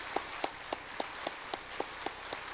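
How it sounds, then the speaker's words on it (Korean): A church congregation claps in welcome, a faint, steady run of separate claps at a regular rhythm. "우리 뜨거운 박수로 환영하겠습니다"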